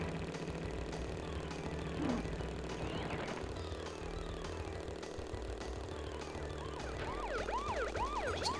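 Police car siren in the Crash Bandicoot: Warped street level, wailing steadily through the clip over constant game music and engine noise, with its rising and falling sweeps growing clearer toward the end.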